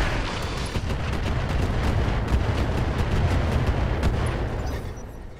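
Mech weapons firing in the BattleTech game Roguetech: a dense barrage of rapid booming shots and blasts rolling together for several seconds, loud and continuous, with no talking.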